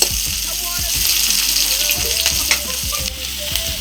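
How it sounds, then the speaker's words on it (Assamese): Raw onion sizzles steadily in hot oil in a home kitchen, a bright continuous crackle with occasional stirring scrapes, close and loud throughout. "এতিয়া পিঁয়াজ এটা কেঁচা পিঁয়াজ এনেদৰে তেলত দিছে"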